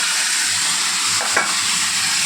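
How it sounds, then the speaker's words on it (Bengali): Vegetables fry and sizzle in hot oil, a dense steady hiss filling the whole stretch, with a brief stirring scrape in the middle and no talking. "চলো সবজিটাকে তেলে দিয়ে দিই"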